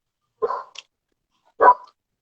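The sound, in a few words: neighbour's dog barking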